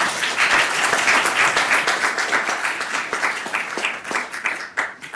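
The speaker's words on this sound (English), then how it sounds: "I also want to give him a big round of applause" A conference audience at a melanoma symposium claps together in a dense, loud round of applause that holds steady, then begins to thin toward the end.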